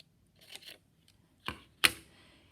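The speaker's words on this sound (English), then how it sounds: "I'm going to take part of my flesh color and cut a shape for my neck" Scissors cutting a neck shape from flesh-colored material for a 3D portrait sculpture, heard as a few brief, close snips separated by quiet pauses, with no talking.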